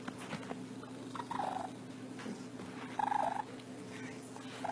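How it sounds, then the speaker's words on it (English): A shelter cat gives short, bright chirping trills in two distinct bursts against a steady background hum, fairly faint and with no talking. "Remember this crazy chirp and this smile on his face."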